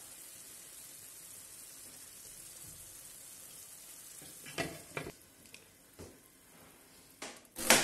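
Peruvian coriander arroz con pollo cooked in beer, drying slowly in a pot over reduced heat. A steady soft sizzle and bubbling runs throughout, joined in the second half by several sharp clinks and scrapes of a utensil against the pot.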